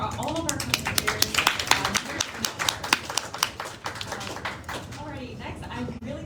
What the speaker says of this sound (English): Let's give another round of applause for all of our commentators.